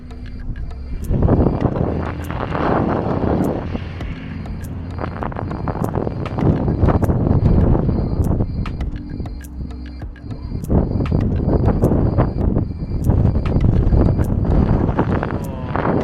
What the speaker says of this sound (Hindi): हवा इतनी तेज़ चल रही है इस वक्त